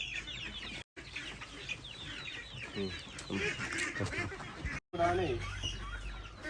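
Chickens cluck and chirp close by in a busy cluster, with brief cutouts and some faint voices in the background.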